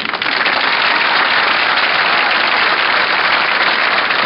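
A large crowd in a town square at a political rally breaks into dense, continuous applause, a loud, even roar of many hands from start to finish with no voices on top.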